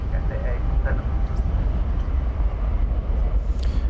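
An airliner landing after a flight from Hong Kong at DFW Airport, a steady low roar of engine and rolling noise filling the clip, heard at a distance, with faint chatter over it.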